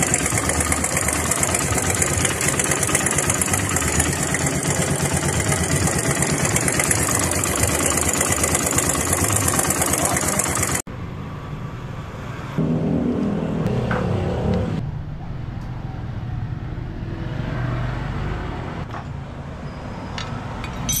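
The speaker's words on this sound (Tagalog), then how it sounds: "Papakita ko sa inyo yung video kung saan may lagitik yung makina ko." A Keeway CR 152 motorcycle engine idles with a steady mechanical running noise and a faint ticking in the valvetrain, loud and constant for about ten seconds before dropping to a quieter, uneven engine sound.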